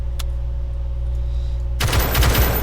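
The Mendoza RM245 gun in the video game Call to Battle fires after a low idle hum, a sudden rapid burst of loud automatic shots filling the last second.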